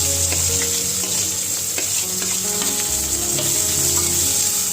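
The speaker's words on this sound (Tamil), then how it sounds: "வெங்காயம் நல்லா பொன்னிறமாக வதங்கி வர வரைக்கும் இதை நம்ம வதக்கிக்கலாம்" Onions and fennel seeds frying in hot oil for a dry fish thokku, a loud continuous close-up sizzle with scattered scraping strokes from stirring, and no voices.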